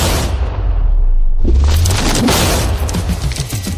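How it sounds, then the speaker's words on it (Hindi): A loud, deep TNT explosion booms and rumbles, followed by crackling debris and a lingering roar. "इस धमाके ने सच में मुझे डरा दिया।"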